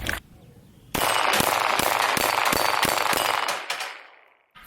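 Rapid string of gunshots from a CZ SP-01 Tactical pistol, roughly eight sharp, loud reports fired in quick succession at close range, each with a ringing tail, followed by fading echo.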